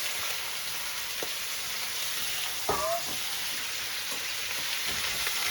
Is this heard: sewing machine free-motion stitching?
no